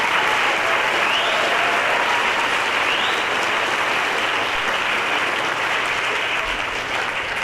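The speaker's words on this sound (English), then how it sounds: "Everybody give a big round of applause to our graduates" Loud, sustained applause from a large crowd at an adult education graduation, dense and steady clapping filling the whole space without letting up.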